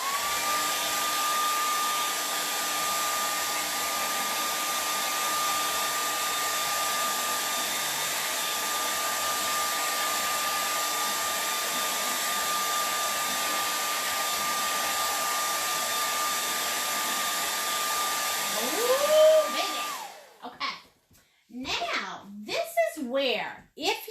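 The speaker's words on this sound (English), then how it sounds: "Now I'm going to blow dry it." A hair dryer blows steadily on wet gold and green acrylic paint on a peacock canvas, a constant high whine for about twenty seconds before it cuts off and voices follow.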